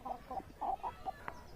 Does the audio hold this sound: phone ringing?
no